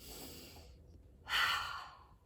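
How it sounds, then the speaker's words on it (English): A single deep breath drawn in during a quiet children's story time, a soft airy inhale swelling loudly midway and trailing off, close and alone with no talk. "Take a nice big deep breath."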